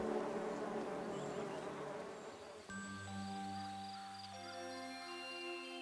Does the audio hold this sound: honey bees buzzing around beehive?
yes